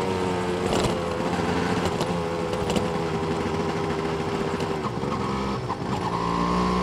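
A Yamaha DT motorcycle engine runs close by in a workshop, holding a steady buzzing tone with a few small throttle blips and rev changes, and no talk.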